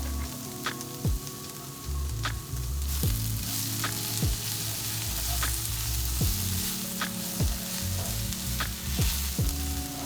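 Garlic and mushrooms frying in a pan at a campsite, a steady loud sizzle with repeated sharp scrapes and clicks of stirring, close by and without talk.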